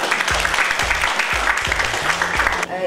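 Audience at a district recitation contest elimination round in Drelów bursts into sustained, dense applause that fills the room, continuing steadily to the end.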